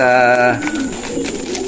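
A racing pigeon fresh out of a shipping box, ring-banded and ready to breed, coos loudly and close up in a short harmonic burst, followed by quieter rustling and faint background noise.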